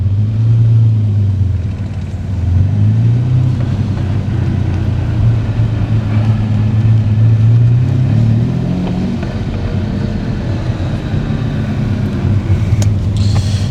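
A Lamborghini Countach's engine cooling fan hums with a steady low mechanical whir over an idling engine rumble, close and fairly loud.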